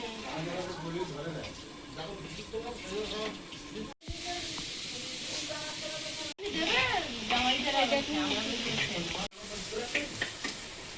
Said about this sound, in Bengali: পাঁচ রকম না ছ রকম জানি না ভাজা হচ্ছে, আলু ভাজা, বেগুন ভাজা